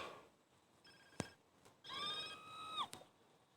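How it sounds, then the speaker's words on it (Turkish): Telephone ringing in the video game GTA San Andreas, a faint electronic tone that repeats twice with a sharp click between, heard alone over quiet game background. "Telefon."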